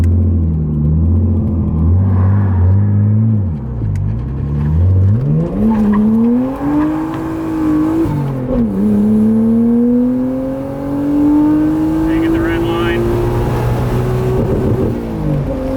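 A JDM performance car's engine revs slowly toward a redline near 8,000 rpm, a loud, close, continuous roar whose pitch dips once, then climbs steadily and strains higher for many seconds with no one talking.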